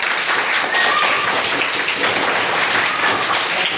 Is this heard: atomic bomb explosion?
no